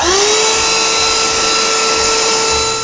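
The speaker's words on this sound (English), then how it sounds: "Go easy with your vacuum itself." A vacuum cleaner runs close and loud while clearing dust from a LEGO layout, its motor rising to a steady high whine that holds without a break.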